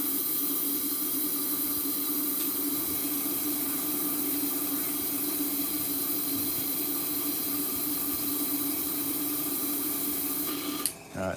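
An SMS Dragonair airbrush sprays out hardware-store lacquer thinners in a steady, close, continuous hiss lasting about eleven seconds, then cuts off abruptly.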